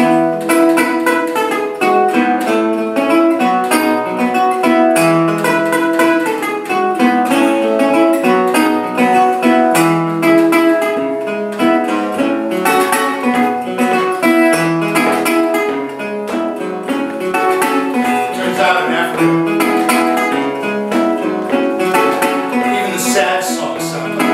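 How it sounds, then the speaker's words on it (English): Muted guitar notes damped by a napkin under the strings, plucked in a bright, bouncy African rhythm, short and percussive with little ring, playing continuously without voices. "putting a napkin underneath the strings to kind of kill the resonance"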